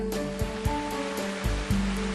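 Flowing water of the Kitakami River, a clean stream in Japan's Tohoku region, rushes in a continuous broadband wash with periodic low thumps. The flow is loud and steady, with no talk.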